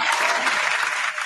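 Dense, steady applause from a crowd fills the whole moment, loud and even from start to finish with no pauses, played as a sound effect on a music talk show.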